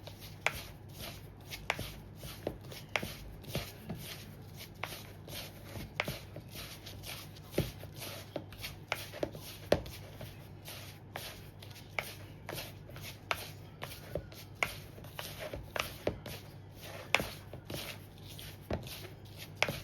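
Apple crumble topping mixed by hand makes soft, regular rubbing and crumbling ticks that repeat steadily and quietly at close range.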